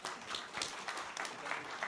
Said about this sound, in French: On peut vous applaudir d'ailleurs